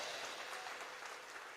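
A church congregation claps together during a sermon, a dense, even wash of many hands applauding throughout, moderately distant and soft, with no voices rising above it.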